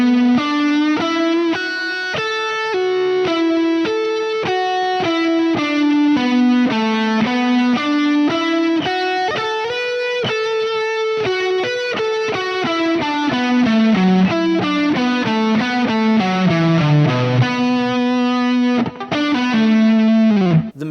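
A distorted electric guitar plays a blues lick at slowed speed, with sustained, bending notes in a steady melodic run, loud and close, with no voices.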